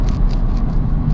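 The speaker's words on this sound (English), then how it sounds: "Transmission shifts beautifully in this car." A 550-horsepower Hennessey-tuned Cadillac ATS-V downshifting on a drag strip after a high-speed run: a loud, dense, continuous engine roar with a deep rumbling low end, heard alone without talk.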